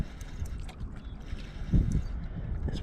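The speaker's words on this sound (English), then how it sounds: "This wind is ripping through here" Wind gusts rumble across the microphone during bass fishing from a boat, a low buffeting roar with some water and handling noise close by.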